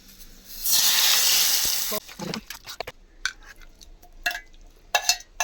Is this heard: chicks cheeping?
no